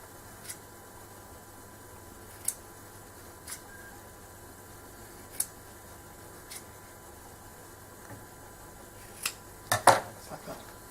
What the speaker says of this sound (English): And then you will cut across the corners.